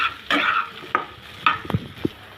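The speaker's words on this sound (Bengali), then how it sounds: "ভালো করে ভেজে নিতে হবে যাতে মশলাটা পুড়ে না যায়।" Spices with chili powder and roasted cumin powder being fried and stirred with jackfruit seeds in a pan, a few sharp scraping strokes of a spoon over a soft sizzle, close and alone.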